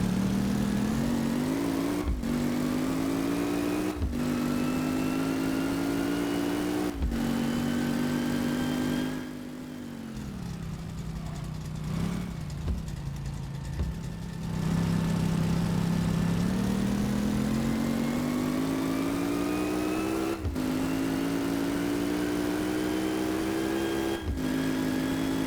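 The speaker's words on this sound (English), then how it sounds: "this car is running very well" A revived car engine runs steadily and close by, with a constant idle hum and a few sharp clicks; the engine briefly dips and revs mid-way before settling back to a smooth idle.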